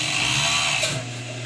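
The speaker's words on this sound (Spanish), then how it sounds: "Todo vamos a piezarlo con la remalladora." An overlock serger joining pieces of a polo shirt runs with a loud, dense mechanical whir, steady and continuous, then eases slightly softer near the end.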